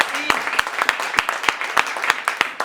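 A church congregation claps and applauds in a dense, rhythmic patter of sharp hand claps, loud and close, with voices mixed in beneath.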